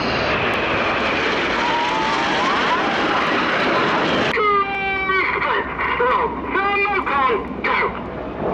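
A lone Red Arrows jet flying past at an air show, a loud roaring engine wash that breaks into a sharper, whining pass partway through, with a crowd and tonal sounds behind it.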